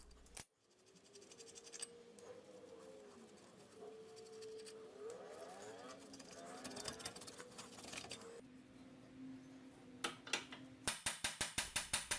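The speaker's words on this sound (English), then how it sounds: "Now I'm moving on to one of the front brake calipers. I'm just going to remove it." Front brake caliper being removed from a Hyundai Sonata: metallic clinks, scraping and ratchet-like clicking of tools on the caliper, ending in a fast series of sharp ratcheting clicks, close and fairly loud with no talk.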